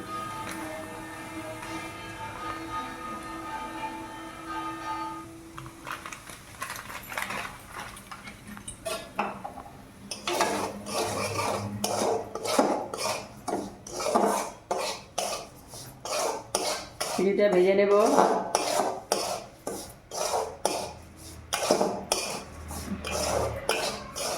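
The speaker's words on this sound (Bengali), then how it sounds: "সাদা তেল দিয়ে দিচ্ছি এই দেখুন সুজি দিয়ে দিচ্ছি" Semolina stirred in hot oil in a pan: after a faint opening tone, a metal spoon scrapes and clinks against the pan in quick irregular strokes, close and moderately loud, with no talking.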